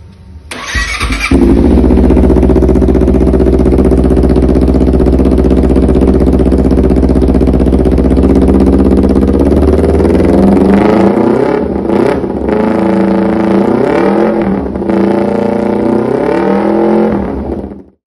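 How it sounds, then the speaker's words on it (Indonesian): A Honda CBR 250RR engine revs hard through a loud aftermarket carbon SC exhaust, holding a steady roar before rising and falling in several throttle blips, close and very loud. "langsung kita dengerin aja suara knalpotnya. Ini knalpot model SC yang karbon"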